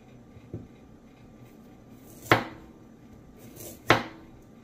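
A knife dices onion and carrot on a cutting board in three sparse strikes: one light tap, then two sharp, loud chops about a second and a half apart, with quiet room tone between.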